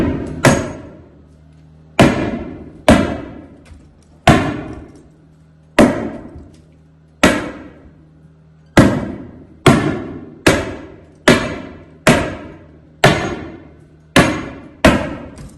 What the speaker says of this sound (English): Let me staple it down.